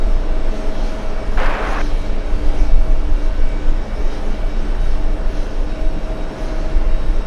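A JetBlue airliner arriving from Boston at JFK airport rumbles with a steady, loud jet engine roar throughout, a continuous broad drone with a brief higher-pitched burst near the start.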